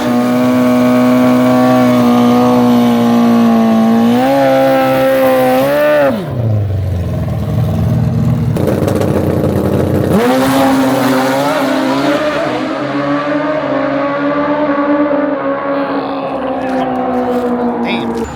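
A Suzuki Hayabusa motorcycle at a drag race, its engine screaming loud and close as it climbs through the gears with rising pitch and sharp shift breaks, then fading into a distant whine.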